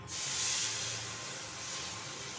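Water poured onto browned, roasted semolina in a pan, giving a sudden sharp hiss that peaks at once and then fades into a steady, softer steaming sizzle, close and faint, with no talk.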